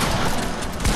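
Dense, continuous gunfire in Fortnite, a loud wash of overlapping shots and blasts with no clear gaps, played through without voices.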